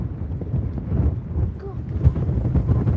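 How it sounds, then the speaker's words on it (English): Wind blowing across Lake Talquin and buffeting the microphone, heard as low, uneven rumbling gusts throughout, close and loud, with a faint voice briefly underneath. "That's just the wind"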